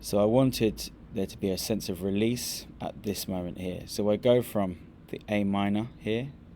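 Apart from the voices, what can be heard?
None of the usual background noises is heard.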